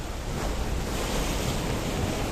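Sea waves crash steadily against a rocky shoreline along a coastal path in Paphos, Cyprus, a dense continuous roar of surf mixed with gusting wind buffeting the microphone, with no voices.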